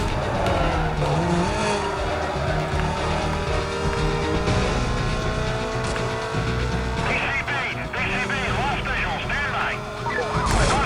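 Race cars roar and skid through a police chase in Need for Speed: Most Wanted, with high-revving engines, squealing tires and sirens wailing continuously, loud and close, while a player talks over the game.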